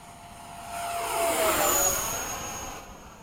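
An 80mm FMS Hawk RC model jet flies a fast pass. Its high ducted-fan whine swells as it approaches, peaks overhead and drops in pitch as it recedes.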